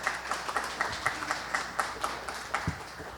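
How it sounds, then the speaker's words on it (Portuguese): A small audience at a photography documentary talk gives steady, moderate applause, with rhythmic claps from a few nearby hands standing out over a softer spread of clapping in the room. "E uma salva de palmas."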